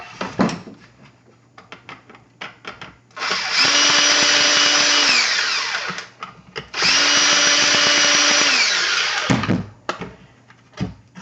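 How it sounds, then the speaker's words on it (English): Power screwdriver whirs twice in long, steady bursts while removing screws from a Hoover Turbo Cyclonic vacuum, with clicks and handling knocks of plastic parts between and around the runs. "I gotta take the screws off."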